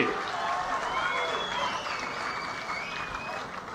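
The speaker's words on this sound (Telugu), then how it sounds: "గట్టిగా చప్పట్లు కొట్టి అభినందించండి" At an outdoor public meeting, a crowd applauds in a continuous dense wash of clapping that holds steady throughout, with cheering and shouting voices mixed in.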